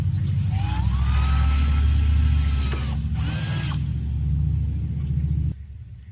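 A power drill boring a hole for a C8 Corvette center exhaust install, a loud steady motor whine and rumble that runs continuously before cutting off abruptly near the end.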